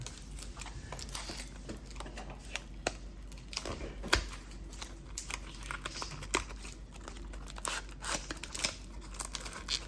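Bearbrick blind box card packs are torn open and handled, giving close, irregular crinkling, tearing and rustling bursts with sharp snaps of foil or paper across the whole stretch.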